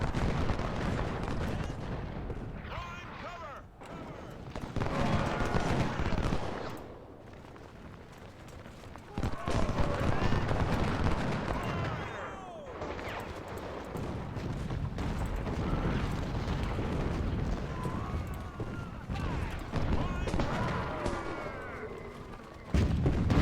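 Massed repeating rifles and artillery rumble through an Ultimate General: Civil War battle at Richmond, a steady dense crackle of volleys with heavier booms swelling and easing over time, no talk.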